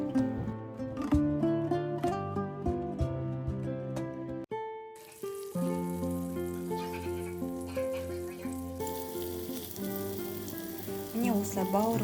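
Soda-marinated liver fries in a hot pan with a steady crackling sizzle, mostly buried beneath loud, continuous background music.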